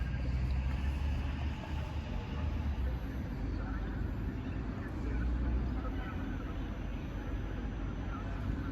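A train rolls past at Warszawa Rembertów station in Poland, a steady low rumble and broadband rail roar that swells slightly midway, with someone speaking over the passing noise.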